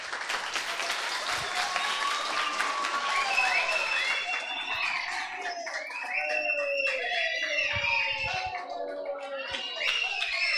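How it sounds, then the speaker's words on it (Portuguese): An audience of children at a school talk on bullying at a legislative school bursts into loud, sustained applause, mixed with high excited shouts and cheering from the crowd throughout. "Uma salva de palmas para eles."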